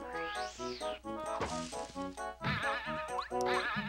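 Bleating sheep sound effects from the Sleepy Sheep item in the Paper Mario video game, several wavering bleats repeating over a bright, busy layer of game music and chimes.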